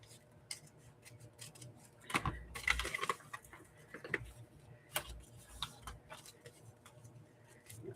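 Scissors or a blade cutting off the back piece of a handmade journal, with a burst of crisp paper-cutting noise amid scattered close clicks and light handling taps, no voices.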